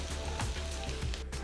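Chopped ginger and green chillies sizzle in a hot pan, a steady close crackle of frying that runs on unbroken for a moment.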